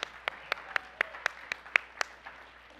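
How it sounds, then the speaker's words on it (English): A church congregation claps in a slow, steady rhythm, about ten distinct evenly spaced claps, fairly soft and close, with no talking over them. "Give a clap for Ade."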